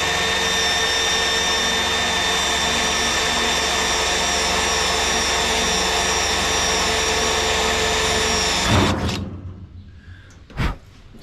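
A drill bit cuts out a spot weld on the trunk pan of a 1969 Dodge Charger. The power tool whines loud and steady for about nine seconds, then spins down and stops, followed by a couple of brief knocks.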